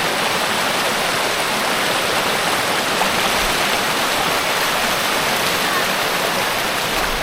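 A river flows in a continuous loud, broadband rush of water, steady and close throughout with no pauses.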